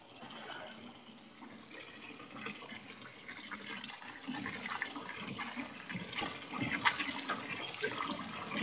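Ramen noodles are rinsed under running water, a steady faint rush and splash of liquid that swells slightly toward the end, with no voices.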